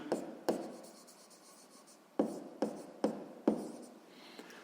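Pen or pencil writing on paper, close and quiet, with a few short strokes and taps separated by pauses.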